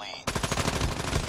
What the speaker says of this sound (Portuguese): eu atirei nele